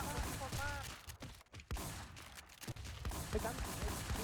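Scattered gunshots from a WarZ firefight crack in short bursts, fairly close but often mixed with overlapping voices talking over the shooting.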